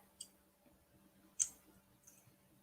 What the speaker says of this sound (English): Can you hear the clicking? It's not my mouse either.